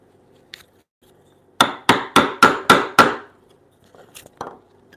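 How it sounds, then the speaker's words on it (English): Hammer blows drive a chisel into wood in a timber-frame toy block workshop, six sharp close strikes in quick even succession, with a few lighter taps before and after. "to chisel this whole part out."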